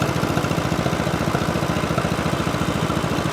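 A 1950 John Deere Model M tractor engine runs loud and steady with a rapid, even chugging pulse as the RPMs are brought up, filling the whole clip with no voice over it.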